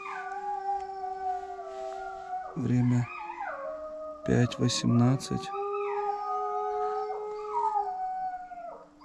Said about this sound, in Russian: Начал выть сначала волчонок, а потом присоединилась фурия.